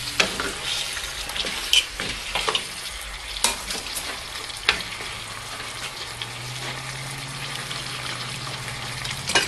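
Chicken stir-frying in a pan, a loud steady sizzle with repeated scraping and clattering strokes of the stirring spoon, ending in a more even hiss of frying.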